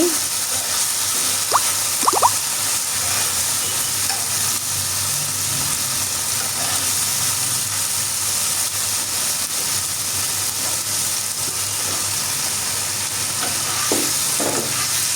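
Spice paste with a little water being stir-fried in a pan, a constant bright sizzling hiss with occasional clicks and scrapes of a spatula, steady and close throughout.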